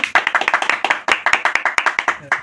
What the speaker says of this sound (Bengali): দাদার জন্য একটা তালি হবে না একটা সবাই তালি